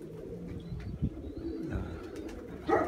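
Pigeons coo in low, soft, throaty bursts close by, with rustling and faint chirps around them and a brief spoken word.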